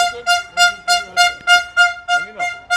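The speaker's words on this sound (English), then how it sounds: "Stop the air horn." An air horn blasts repeatedly during a confrontation between a New Jersey mayor's crowd and journalists, about eight loud, evenly spaced honks close by, with a voice briefly cutting in near the end.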